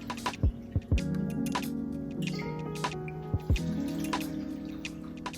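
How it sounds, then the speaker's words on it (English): Water pours into a blender, dripping and splashing, with a few louder plops among steady trickling and tonal ringing, close by. "And then I'm going to put a cup of water."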